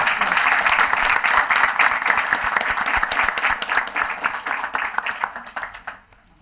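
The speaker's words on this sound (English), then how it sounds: "How about one more round of applause?" A round of applause at a school committee meeting, dense clapping from a room of people that stays steady for most of the stretch before thinning out and stopping near the end.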